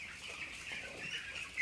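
A crowd of chickens in a poultry house makes a faint, continuous mass of clucking and chirping, a steady distant din with no single bird standing out.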